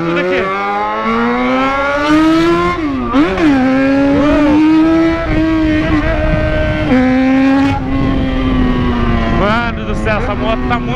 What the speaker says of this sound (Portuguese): Essa moto tá muito barulhenta, tá me metendo pânico a moto.